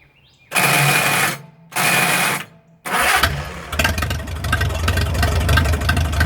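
A 1937 Willys flathead engine, left sitting in the woods for over 25 years, cranks in two short bursts, then catches and runs with a steady, rough idle that stays loud and close.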